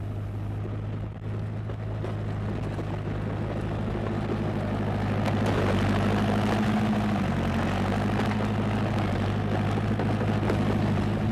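Trucks and heavy machinery grind away at the Steung Meanchey municipal garbage dump in Cambodia, with a constant low engine drone and idling rumble that rises slightly midway, steady and fairly close, with no talking.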